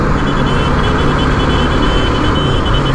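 A car driving along a street in Surat, heard as a loud, close, continuous engine and road rumble with no breaks, dense and steady throughout.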